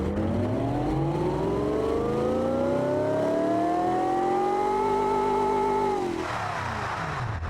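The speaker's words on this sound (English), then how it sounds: "Like a supercharged V8." A supercharged V8 engine in a video game revs with a rising, whining supercharger tone that climbs steadily for several seconds, then drops off as the throttle releases.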